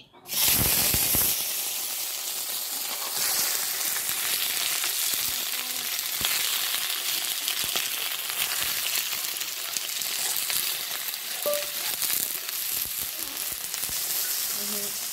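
Tangra fish frying with onion in a pan gives off a loud, steady, hissing sizzle that runs unbroken throughout, with occasional stirring scrapes.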